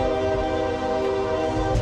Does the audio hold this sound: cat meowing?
no